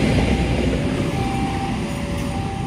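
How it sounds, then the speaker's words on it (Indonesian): The Turangga passenger train rolls past close by approaching Bandung station, with a loud, steady rumble and rattle, a faint squealing tone running through it. "Yang baru saja melintas kereta api Turangga persiapan masuk stasiun Bandung"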